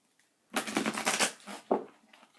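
A deck of tarot cards is riffled in a quick burst of crisp fluttering clicks, followed by a shorter second riffle, close and clear with no talking.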